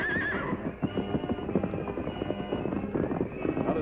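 A radio-drama sound effect of outlaws' horses whinnying and then galloping away, with a sharp neigh at the start followed by steady, fairly close hoofbeats.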